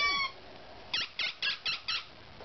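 A squeaky toy sheep squeaks five times in a quick, evenly spaced series, each squeak bright, close and loud, after a brief higher squeal at the start.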